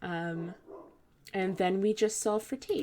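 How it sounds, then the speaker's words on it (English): A dog barks in several short, sharp bursts at close range, mixed in with a person talking. "Sorry if you can hear my dog barking."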